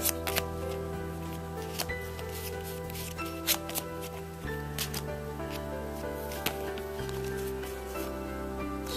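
Cards from a Descent 2nd Edition board game expansion are handled during unboxing, with soft close rustles and flicks over a steady background of music.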